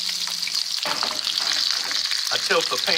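Peppers and chorizo sausage sizzling steadily in an oiled pan, a loud continuous fry with occasional stirring and shifting sounds as the pan is tilted.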